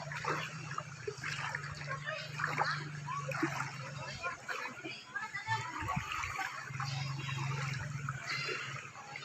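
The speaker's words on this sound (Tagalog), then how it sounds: "Parang hindi ako makalakad sa lakas ng, ano, agos ng tubig." Floodwater flows strongly down a street, splashing and sloshing around someone wading through it, with a steady rushing wash and occasional splashes under talk and laughter.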